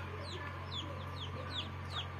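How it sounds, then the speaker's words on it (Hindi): A domestic hen kept at a house gives soft, repeated clucks against a steady low hum, the calls coming in a loose series of short notes, quiet and close-by with no speech. "ये हमारे घर की मुर्गी है"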